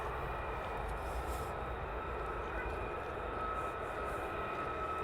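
An F-35A fighter jet taxis at RAF Lakenheath with a steady, distant engine whine and rumble that holds constant without rising or fading.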